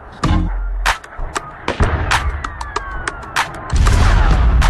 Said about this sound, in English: Explosions and sniper fire have become the soundtrack for the city.